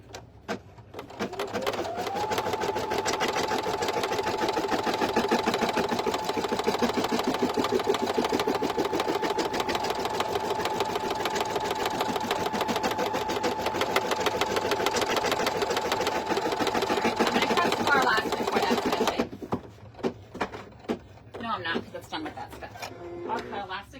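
An in-the-hoop embroidery machine runs steadily for about twenty seconds, stitching placement lines for a sleep mask with a fast, even mechanical whir and needle clatter, then stops; a person talks briefly near the end.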